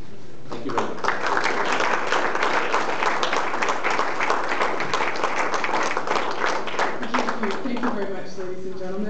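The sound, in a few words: audience applause after speech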